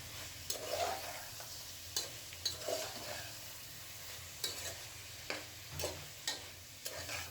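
Chicken and spices are stirred in a pan with a spatula, bringing soft frying sizzle under repeated scraping strokes and light clinks at an irregular pace, close and moderately quiet, with no talking.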